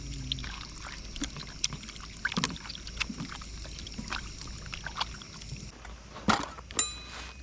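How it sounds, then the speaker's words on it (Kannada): Water is poured and splashed over chicken being washed in a bowl at a rainforest campsite at night, intermittent sloshes and small splashes close by, quiet between bursts, with a sharper clatter near the end; no talking. "ಸೊ ಇನ್ನೊಂದು ಸಲ ಚಿಕನ್ ವಾಶ್ ಮಾಡ್ಕೊಳ್ಳೋಣ"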